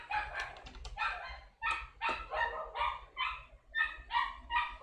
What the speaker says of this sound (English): Dogs really are barking.